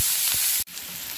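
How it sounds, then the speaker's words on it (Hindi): Onions fry in a pan, a loud close hiss with a couple of soft stirring bumps, cut by a brief dropout before the sizzle resumes. "प्याज को अच्छे से ब्राउन होने तक भूनेंगे"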